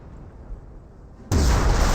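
A V1 rocket strike in Company of Heroes, quiet rumble then a sudden loud, booming explosion that holds at full force.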